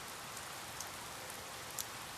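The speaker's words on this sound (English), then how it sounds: "the rain's lullaby lingers in my ears" Rain falling at night, a faint, even patter and hiss of drops on surfaces that holds steady throughout, with no voices.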